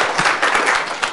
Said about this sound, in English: big round of applause to our panellists first off